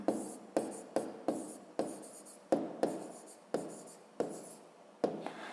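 A pen writes the answer to a 5th-grade math exercise, making close, crisp scratching strokes in quick repeated bursts with brief pauses between them.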